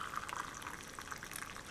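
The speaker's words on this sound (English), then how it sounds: "putting some more water." Water is poured, a faint, bubbling trickle lasting under two seconds, heard alone in a quiet room.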